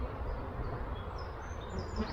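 Steady, soft buzzing of honeybees, including drones, at an open hive fills the clip without pause, a dense close swarming hum, with no voices.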